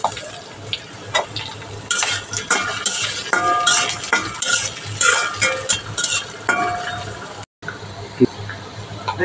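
Chopped onion hitting a pan of already-fried prawns brings a steady close sizzle with scraping stirs and utensil clinks against the pan, briefly cutting out near the end.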